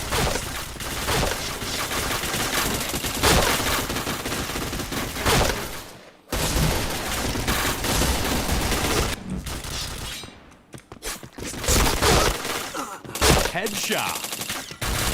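Gunfire in a shooting video game, dense rattling volleys of shots that run almost continuously with a couple of brief breaks, loud and busy, with little other sound.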